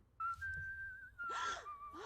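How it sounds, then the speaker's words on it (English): A Sims character whistles in The Sims 2, a clear high whistled tone held for about a second, then a breathy gasp and a short second whistle, close and isolated. "And whistling."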